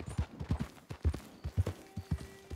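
Horse hooves clip-clop at a steady walking rhythm in the Red Dead Online video game, about a dozen close, distinct footfalls in regular alternating beats, with no talking over them.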